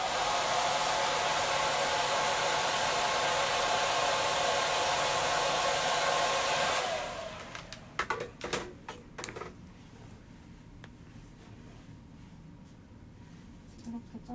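A hair dryer blows loudly and steadily during hair colouring in a salon, then cuts off about halfway through. Soft handling clicks and rustles follow, with faint talk in the background.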